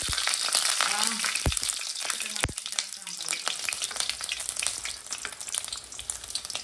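Three green chillies spit and crackle in hot oil, a steady loud close sizzle with a couple of sharp pops early on, no speech over it.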